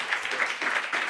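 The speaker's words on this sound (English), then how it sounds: "give Sergio a really big applause" Audience applause at a startup pitch demo day, a dense, steady wash of many hands clapping at moderate loudness with slight swells, no voices over it.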